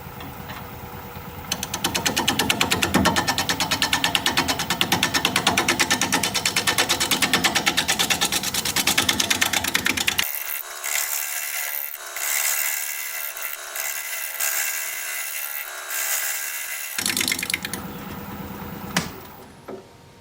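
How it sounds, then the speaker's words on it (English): A wood lathe spins a bowl at 560 RPM while a 5/8 inch bowl gouge cuts, giving a continuous dense scraping hiss with a rhythmic buzz, then a thinner, brighter rasping section before the cut winds down. "We're going to be turning at 560 RPM, 5/8 inch bowl gouge"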